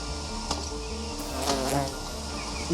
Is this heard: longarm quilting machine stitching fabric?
no